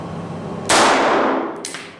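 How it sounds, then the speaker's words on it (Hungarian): A FÉG 48M 7.65 mm Browning pistol fires at a 10 m target: one loud, sharp shot with a ringing decay, then a brief metallic clink. "most a feladat az, hogy 10 méterről revolverezve lövök szórást"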